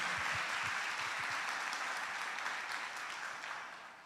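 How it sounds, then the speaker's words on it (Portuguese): A church congregation gives a big round of applause, sustained dense clapping that fills the space at steady loudness and tapers slightly toward the end, with no talking over it. "Dá uma grande salva de palmas para a palavra do Senhor."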